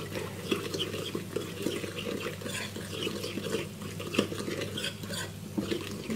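A homemade copycat McDonald's secret burger sauce with paprika being mixed in a bowl, with quiet, steady stirring and light clinks of a utensil against the dish.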